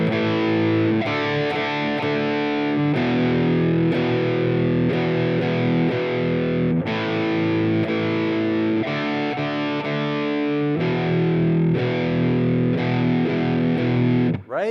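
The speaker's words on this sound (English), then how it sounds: "I'm going to go to my bridge pickup. It's going to be a little more harsh, a little more aggressive. And I'm going to put my distortion on." Distorted electric guitar played on the bridge pickup, chugging out harsh, aggressive power chords in a steady rock rhythm, loud and continuous with brief pauses between chord changes.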